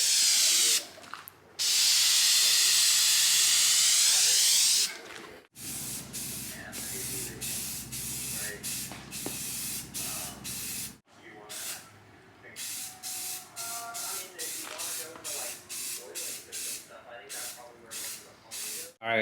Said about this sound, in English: about to spray the first coat of the clear